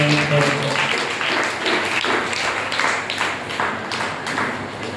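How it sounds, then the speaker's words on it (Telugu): A church congregation claps hands in praise during a Telugu Christian prayer service, with steady, dense clapping throughout over a crowd's murmur, near and fairly loud. "చప్పట్లు కొడుతూ ప్రభుని"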